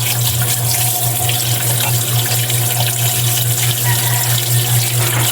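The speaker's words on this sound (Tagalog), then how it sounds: "hugasan lang natin yan hanggang sa luminis" Tap water runs steadily into a sink while raw chicken intestines are rinsed clean, a continuous close splashing rush with a low hum beneath and no talk.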